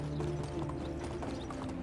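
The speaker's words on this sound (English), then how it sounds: "At least we get to ride a horse." Horse hooves clip-clop steadily at a riding pace in the medieval video game Medieval Dynasty, a fairly quiet, even patter of footfalls over a constant low background hum.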